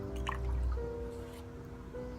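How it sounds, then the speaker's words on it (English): A duster dipped into water while cleaning a fidget spinner gives a short, close liquid drip and squish over a steady low electrical hum. "Dip it in water, and then put shampoo."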